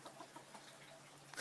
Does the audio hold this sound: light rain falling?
no